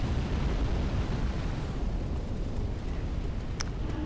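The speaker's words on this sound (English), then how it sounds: "There is a dragon perched high on the wall up there, spewing fire at me." A dragon perched high on a wall spews fire in the video game Dark Souls 3, making a steady, roaring, low-heavy rush of flame that holds loud and unbroken from start to finish.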